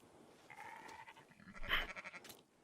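Sheep bleating on a farm in the Red Dead Online video game, a few wavering bleats rising to one louder, nearer call over a soft background murmur, with no talk.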